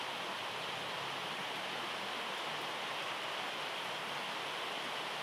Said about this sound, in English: I wish you could stick around and enjoy the sound of the rain with me.